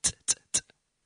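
A beatboxer's mouth imitates a closed hi-hat: three short, crisp, hissy ticks spaced evenly and close up, then a faint tiny click, with no instruments.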